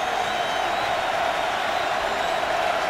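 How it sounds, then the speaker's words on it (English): A large NFL stadium crowd at a Browns at Ravens game, building a steady, broad roar of cheering and noise on third down and long, continuous and even throughout. "And now the crowd will come to life"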